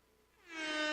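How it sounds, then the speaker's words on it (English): A single blaring air horn blast swells in after a brief quiet moment and holds loud and steady to the end. "I got my air horn"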